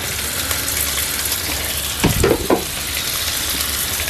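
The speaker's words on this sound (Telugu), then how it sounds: "ఇవన్నీ కొంచెం వేగించుకోవాలి లైట్గా" Capsicum, cabbage and carrot stir-frying in a hot pan, a steady loud sizzle with a couple of brief scraping stirs midway, no voices.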